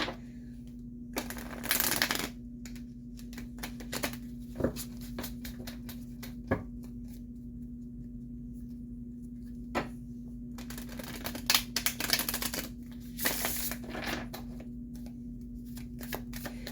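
Tarot cards are shuffled close by in several short riffling bursts and soft slaps, separated by quiet stretches over a steady low electrical hum.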